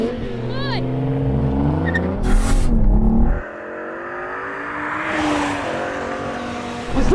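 A BMW M5 V10 Touring and a BMW M440i launch side by side in a drag race, engines roaring loudly up through rising revs, then a gear change and continued hard acceleration close by, with a voice underneath.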